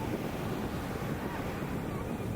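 Ocean waves wash steadily onto a beach in Kerala at sunset, a continuous broad roar of surf mixed with wind buffeting the microphone, with no break or speech.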